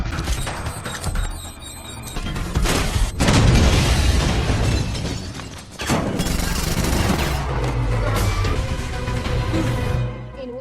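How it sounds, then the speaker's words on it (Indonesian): A big film explosion from several bombs set off together: roaring blasts and booming rumble with debris crashes and bursts, loud and dense across the whole stretch, under a film score. "menyatukannya hingga menimbulkan sebuah ledakan besar."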